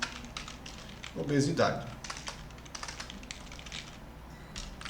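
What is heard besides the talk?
typing on a computer keyboard while writing code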